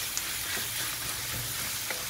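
Ground pork frying in melted butter in a pan, a dense close sizzle with faint stirring scrapes, steady over about two seconds without speech.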